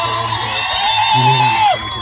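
A loud crowd at a political rally in Dahod, Gujarat, cheers and whoops, with a rising and falling shout or whistle soaring above the steady roar of voices.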